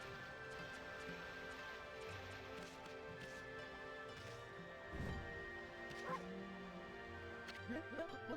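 In the video game Ōkami, a dog yips, barks and whimpers softly in short bursts, with louder thuds midway, all under background game music and a person talking.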